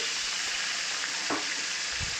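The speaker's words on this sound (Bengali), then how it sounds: "এবার যে বাদবাকি মাছগুলো ছিল সেই মাছগুলোও আমি এক এক করে এইভাবে ভেজে তুলে নেব" Pieces of katla fish fry in hot oil with a constant crackling sizzle, close and even throughout, with a faint clink partway through.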